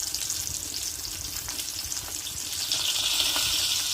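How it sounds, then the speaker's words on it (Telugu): A fairly large fish fries in hot oil in a home kitchen, a steady bright sizzle that swells louder toward the end, heard alone without talk. "చూడండి ఎంత మంచిగా ఫ్రై అవుతుందో."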